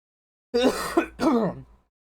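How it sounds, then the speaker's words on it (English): Two quick, rough throat clearings, a short cough-like burst followed by a longer rasp, close and alone in silence. "Excuse me, I'm coughing here."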